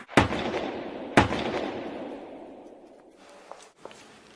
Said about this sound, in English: you would have heard two shots ring out.